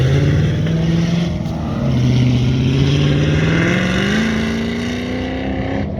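An old Chevrolet Apache truck drives by on a race track during a truck-class session, its engine a loud, close drone that dips and then climbs steadily in pitch as it passes.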